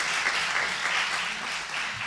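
An audience claps at a 2017 SIT convocation ceremony, a dense, even patter of many hands sustained throughout at moderate distance.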